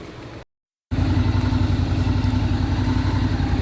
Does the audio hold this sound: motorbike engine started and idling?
yes